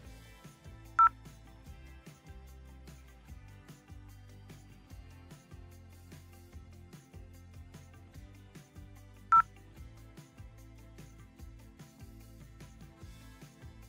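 Telephone dial tones from a scene in a Telugu short film: two short, sharp beeps many seconds apart over a soft, low, steady background bed.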